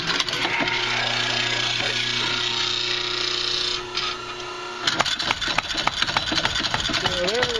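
A homemade bench top power hammer built from repurposed pressure washer parts runs with a steady mechanical hum, then shifts into rapid, irregular clattering strikes that continue to the end; a person speaks briefly.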